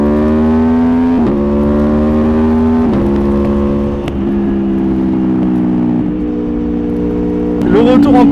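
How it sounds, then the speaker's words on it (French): An Aprilia Tuono motorcycle with an Akrapovic exhaust accelerates loudly up through the gears, its engine note climbing and then dropping at each quick shift, close and continuous, with a louder burst at the end. "Le retour en quick shifter est aussi extrêmement agréable à l'oreille, c'est assez impressionnant"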